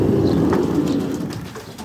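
Pigeons coo inside a roundabout loft, a dense, continuous murmur of soft overlapping coos close by, with no talking.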